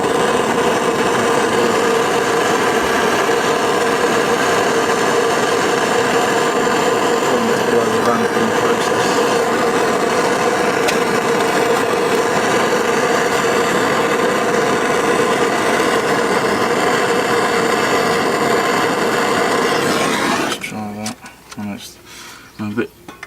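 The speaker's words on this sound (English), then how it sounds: "I'm just going to be heating up the outside part of this bolt, just to try and make it expand a little bit." A torch roaring steadily while heating a bolt on the brake lines of an IVECO Daily van, a loud constant hiss close up for about twenty seconds before it cuts out and a few faint clanks follow.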